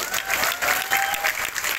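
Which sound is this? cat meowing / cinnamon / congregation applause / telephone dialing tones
congregation applause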